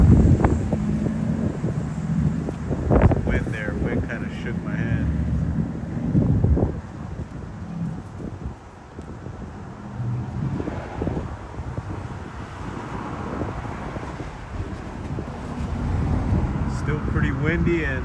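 Wind blowing outdoors under a clearing sky, buffeting the microphone in rough low gusts that swell and ease throughout, with a voice talking over it.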